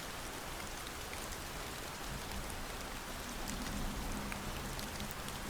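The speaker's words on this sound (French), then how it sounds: "Et chaque fois que la pluie tombera sur ta fenêtre" Steady rain pattering on a window, a soft continuous hiss with scattered drops, with no voices throughout.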